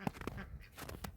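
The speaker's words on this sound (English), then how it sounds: "There's ducks. Ducks over there." Ducks on a mucky farm, a few short quacks and honks from a small group, faint and a little distant.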